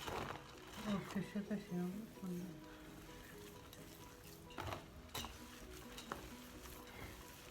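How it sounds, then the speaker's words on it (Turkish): Egg, bulgur and minced meat are worked together by hand for stuffed meatball dough, giving soft wet squelching and slapping sounds close up, broken by a few sharper knocks, while someone talks. "Şimdi yumurta, bulgur ve kıymayı birbirine karıştırıyorum."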